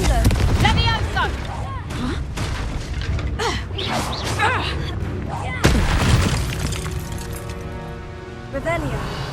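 Confringo fire spells blast in Hogwarts Legacy, sharp cracking bangs and booms mixed with game effects, while a voice shouts spell commands over the action.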